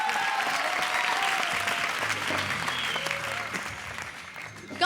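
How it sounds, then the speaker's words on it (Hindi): A studio audience at a Comedy Circus taping applauds, a dense, steady wash of clapping that stays loud and continuous throughout with no pauses. "तालियां फॉर शकील एंड उर्वशी"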